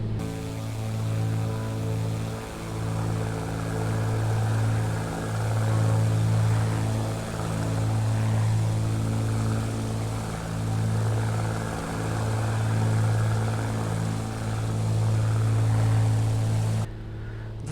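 Black Square Bonanza propeller engine in a flight simulator, a steady loud droning hum with a deep pulsing throb that holds evenly throughout, then cuts off abruptly near the end.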